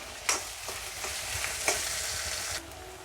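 Onions and curry leaves sizzle in a hot pan for onion chammanthi, a steady close frying hiss broken by a few sharp spatula scrapes and stirring knocks, with no talking.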